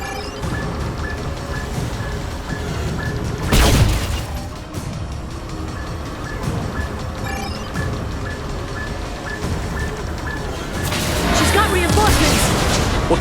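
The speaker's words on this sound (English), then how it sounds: "She's dropping proximity charges." Proximity charges blow up during a flying-car chase in Mass Effect 2 Legendary Edition, two heavy booming blasts several seconds apart over a steady engine drone, with voices talking in between.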